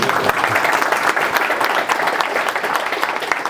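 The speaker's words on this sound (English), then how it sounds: "You can clap" Steady applause from an audience fills the whole stretch, dense and continuous clapping with no voices standing out.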